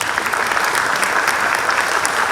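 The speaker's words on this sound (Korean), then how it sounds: "박수 부탁드리고요" Steady, loud applause from an audience at a baseball coach's inauguration ceremony as a business card is presented, a continuous wash of many hands clapping with no voices over it.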